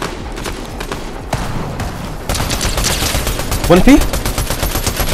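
Rapid assault rifle bursts in the Fortnite battle royale game, crackling loudly and continuously under game effects and players' voices talking over the action.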